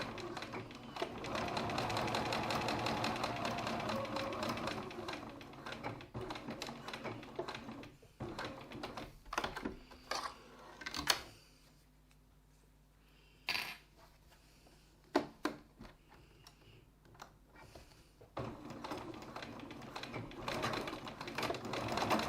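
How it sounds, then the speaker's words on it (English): A sewing machine stitches a wallet strap 3 mm from the edge where the strap folds under. It runs in a steady, close, continuous burst, then falls to short intermittent runs with pauses in between. "I'm going to stitch 3 millimeters or 1/8 of an inch from the edge in the areas where the strap is folded under"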